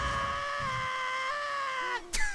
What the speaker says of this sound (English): That's like the most overdone scream I've ever heard.